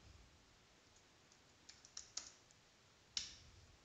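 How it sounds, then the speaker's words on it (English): A handful of quiet, scattered keystrokes on a computer keyboard, faint clicks over a low background hiss with no talking. "Okay, I will just type sudo."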